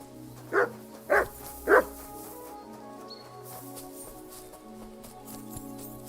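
A dog in Kingdom Come: Deliverance II gives three distinct barks about half a second apart, fairly close, over a steady game ambience with a faint musical drone and no talk.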